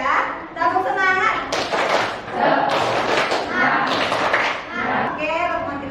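A class of pupils does a rhythmic spirit clap, with claps and thumps falling in a steady pattern under loud, chanted group voices that fill the whole stretch.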